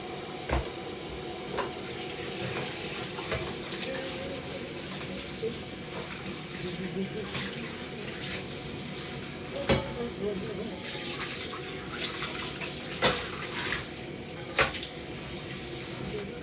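A pot is washed under a running kitchen sink tap, a steady stream of water splashing with occasional clinks and knocks of the pot, fairly faint and close.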